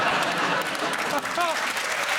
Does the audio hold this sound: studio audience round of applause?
yes